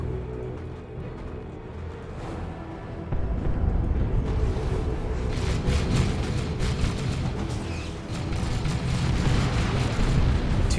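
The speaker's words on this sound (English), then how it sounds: "Two rocket launcher hits, very nice." Rocket launcher hits exploding in the video game Dawn of War 2, heavy booming blasts rolling over dense ongoing battle noise, loud and continuous, with no voices.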